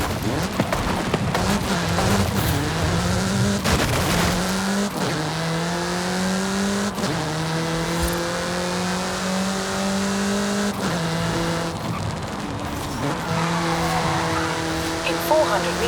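A car accelerating hard in the racing game Forza Horizon 5, its engine note climbing steadily in repeated rising sweeps as it shifts through gears, loud and close with a constant low drone, with no speech.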